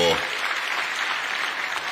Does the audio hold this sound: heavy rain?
no